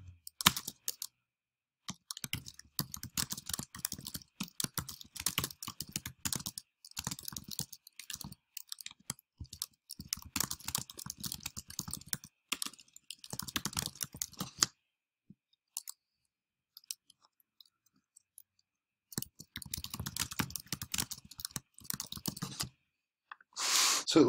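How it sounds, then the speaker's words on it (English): Bursts of fast, light key clicks from a computer keyboard, close and fairly quiet, with brief pauses between runs and a longer silence midway. "So let's just type in Model T."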